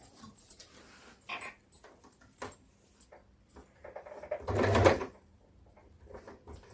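A sewing machine stitching a half-collar suit runs in short quiet bursts with a louder stretch near the end, set among faint handling clicks and fabric sounds, no talk.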